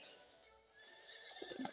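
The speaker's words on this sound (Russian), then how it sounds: "Ну все, лошадка вышла!" A horse neighs and whinnies close by in a video game, with faint hoof clatter, quiet overall and no talking.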